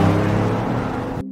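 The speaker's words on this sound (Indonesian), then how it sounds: "Setibanya di mobil, ia pun mengegas kendaraan dengan penuh kecepatan." A car engine in a crime drama revs hard as the driver floors it at full speed, a loud, steady motor roar with layered harmonics that holds for about a second and then cuts off abruptly, no voices.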